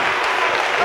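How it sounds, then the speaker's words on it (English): A church congregation claps together in a dense, continuous wash of applause, fairly loud and close, with voices mixed in beneath. "Clap your hands and say hallelujah today"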